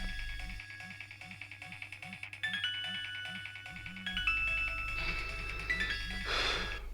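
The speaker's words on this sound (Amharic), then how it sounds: "የማን ስልክ ነው?" A mobile phone ringtone plays repeatedly with a looping electronic melody, fairly clear and close, rising a little louder toward the end with no one talking over it.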